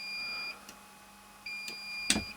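A temperature alarm on a power panel V2 controller sounds as intermittent electronic beeping: a steady tone for about half a second, a pause, then another tone, plus a sharp click near the end.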